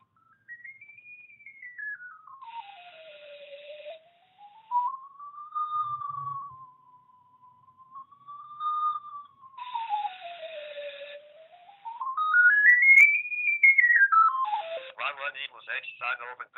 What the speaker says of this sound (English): then you are going to hear the graph